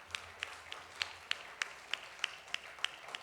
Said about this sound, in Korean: 우리 감사하다고 박수하겠습니다.